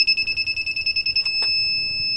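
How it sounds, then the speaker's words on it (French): A rapid series of shrill electronic beeps pulses about a dozen times, loud and close, then cuts off, leaving a faint hum and a single click. "Donc là ça bip un peu."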